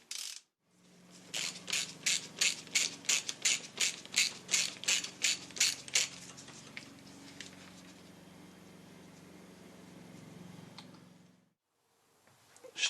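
Ratcheting torque wrench tightening the sump plug on a VW T25 van, a quick run of about a dozen crisp, evenly spaced clicks close by, then a quieter rattling stretch before it stops.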